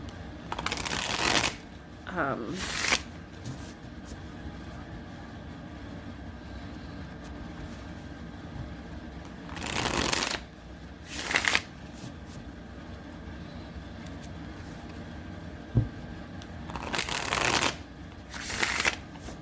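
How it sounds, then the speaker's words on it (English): A deck of oracle cards is shuffled by hand in several separate bursts of quick, close riffling and flapping, with quiet pauses between them. "So I'll pull an oracle card."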